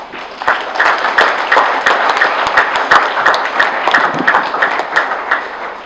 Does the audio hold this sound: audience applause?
yes